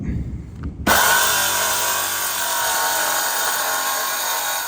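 A power saw rips through a sheet of plywood: after a brief quiet moment it bursts in loud and close, then holds a steady, harsh whine to the end.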